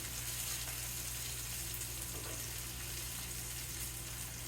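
Squash browning in a pan for a tri-color frittata, giving off a steady, even sizzle with no pauses and no talking.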